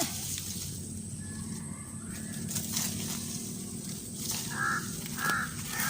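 Two short harsh caws ring out near the end over a steady low rumble of background noise, with no talking.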